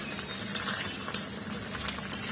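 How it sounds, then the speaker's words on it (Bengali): Paneer frying in a pan gives a faint, steady sizzle and bubbling, with a few soft taps of stirring. "পনির ভাজা হচ্ছে"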